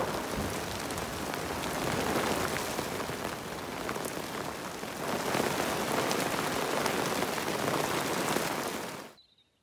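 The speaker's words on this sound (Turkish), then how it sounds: "Sürekli yağmur, fırtına var." Heavy, steady rain pours during a storm at a wooden-house building site, a loud continuous hiss of drops striking surfaces that runs unbroken and then cuts off abruptly at the very end.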